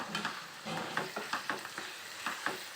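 Ivy gourd (dondakaya) is stirred in a frying pan, with soft sizzling under a series of quick scraping spatula strokes in an irregular rhythm, close and fairly quiet.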